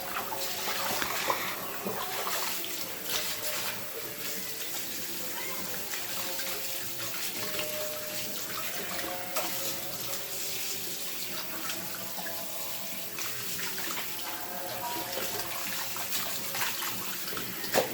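A newly bought kitchen item is scrubbed clean under a running tap in a home kitchen, with steady splashing water and occasional clinks and handling noises for the whole stretch, no speech.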